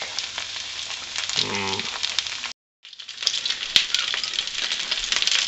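Morel mushrooms frying in plain butter in a pan, a dense crackling sizzle with occasional sharp ticks; it stops abruptly for a moment, then resumes just as busy.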